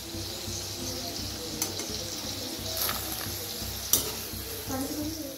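Chana koli vada fry with garlic and curry leaves in hot oil, giving a steady close sizzle with occasional stirring clinks.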